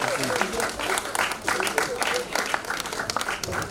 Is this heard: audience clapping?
yes